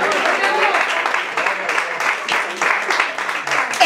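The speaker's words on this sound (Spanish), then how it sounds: "Dale un aplauso aquí" A church congregation claps during a sermon, a lively burst of hand claps with an uneven rhythm, fairly close and loud, with some voices mixed in.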